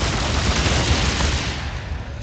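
Dense, rapid gunfire from Tomb Raider: Anniversary, a continuous loud clatter of shots with no gaps that eases slightly toward the end.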